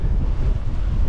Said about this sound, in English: I can hear the wind up here